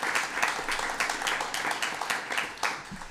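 An audience at a state board of education meeting applauds Secretary Jacob Oliva, with many hands clapping in a dense, lively patter and individual claps standing out, fairly close and steady throughout.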